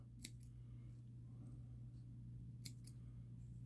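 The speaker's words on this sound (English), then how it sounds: "I want to trim this flat, just above the point, so that I can see what I'm working with." Scissors snip deer hair flat on a fly-fishing popper, two quick close pairs of crisp cuts about two seconds apart over a low steady hum, no voice.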